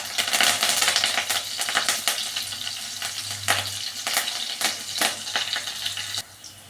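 Onions and curry leaves frying in hot oil, giving a loud, crackling sizzle with repeated stirring clicks and scrapes against the pan, close and continuous until it drops off near the end.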